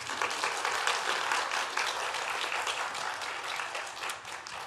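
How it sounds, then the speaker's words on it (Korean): Worshippers in a church give a round of applause, a dense wash of many hands clapping that stays loud and sustained before easing off slightly at the end, with no speech over it. "일단 박수 한번 합시다."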